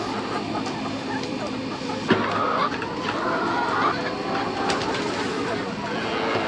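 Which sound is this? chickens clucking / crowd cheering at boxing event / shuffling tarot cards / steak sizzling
chickens clucking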